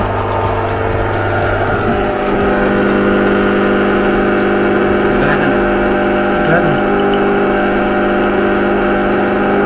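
A fogging machine for home or office use runs with a loud, steady, engine-like drone for the whole stretch, and a voice speaks briefly over it.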